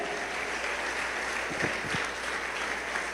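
A church congregation applauds in sustained, dense clapping that fills a large worship hall, steady and even, with a couple of sharper claps near the middle.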